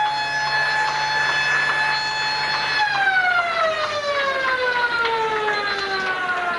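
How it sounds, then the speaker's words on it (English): A loud siren wails at a football ground during the 2000 SWFL League Grand Final, holding a steady tone before gliding slowly downward in pitch, sustained over a low background rumble. "as a siren sounds"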